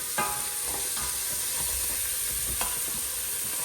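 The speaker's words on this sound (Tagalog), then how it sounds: "Tapos medyo igisa na natin yung karne." Meat sizzles and sautés in a hot pan with fat and a little pepper, giving a steady crackling hiss broken by a few sharp spatters and stirring scrapes.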